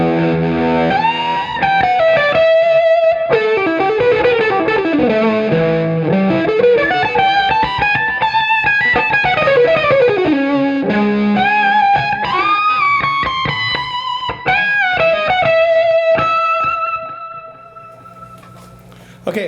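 Electric guitar through an amp with a gritty overdrive tone, playing fluid sustained lead lines with bends and runs, loud and close, fading out at the end.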